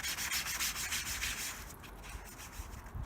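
A white gaming mousepad is scrubbed clean with quick, rhythmic rubbing strokes that sound close and fairly loud at first, then soften into lighter, quieter brushing.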